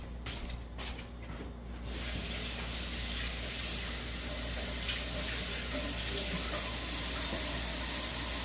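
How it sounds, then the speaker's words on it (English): Water from a tap runs into a sink during hand-washing: a steady, fairly close rush of flowing water that carries on evenly to the end, after a few soft knocks and shuffles at the very start. "Gonna wash my hands."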